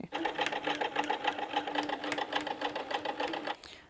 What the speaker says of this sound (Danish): Der skal man bare begynde at sy.